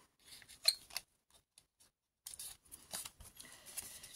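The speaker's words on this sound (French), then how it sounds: "Je vais faire avec des ciseaux, je crois que c'est mieux." Scissors cutting scrapbooking paper at close range, crisp snipping and rustling strokes in two bursts separated by a short pause, quiet and without talk.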